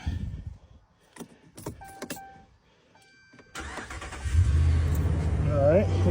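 A truck starts after a GPS tracker is removed: keys jangle and click in the ignition, chimes sound, then the engine cranks and catches into a steady, close idle, with someone speaking briefly.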